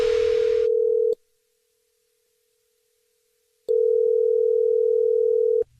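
A telephone dial tone before a prank call, a loud steady hum that cuts out after about a second, leaves near silence, then returns just as loud and steady.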